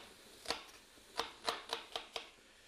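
Knife chopping a red Spanish onion: six crisp, fairly close cuts at an uneven pace, each a sharp tap against the board, with no voices.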